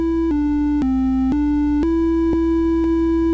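Micro:bit simulator playing a short school bell melody at 120 bpm: a string of clean, steady electronic tones, each note stepping in pitch about every half second, loud and alone with no talking.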